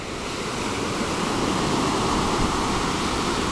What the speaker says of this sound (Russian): Вот слышите вы, какой ветер.